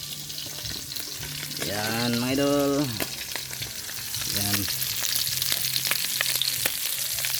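Paksiw fish frying in a pan gives a steady, loud sizzle throughout, with a voice speaking briefly over it in two short bursts.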